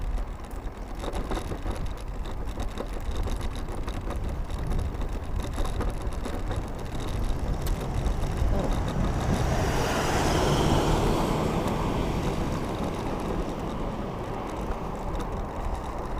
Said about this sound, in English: Oh, car coming by the sound of that.